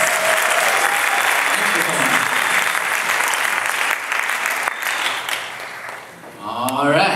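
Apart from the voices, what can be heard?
audience applause at political forum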